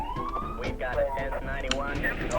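Ambulance siren in Grand Theft Auto, wailing and sweeping in pitch as game action plays, with people talking over it.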